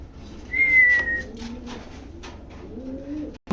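Racing pigeons, a paired couple offered for sale, give soft low cooing murmurs through the clip, joined by a brief high whistle near the start, close by with no talk.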